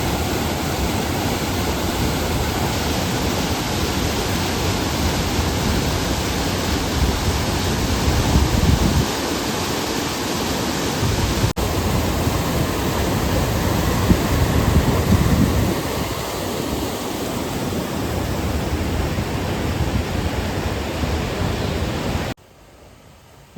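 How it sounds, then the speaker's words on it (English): Jogini waterfall near Manali in Himachal Pradesh pours in a steady, loud, broadband rush heard up close, with brief swells in force and no talking, cutting off abruptly at the end. "this is one of the best waterfall I have ever seen."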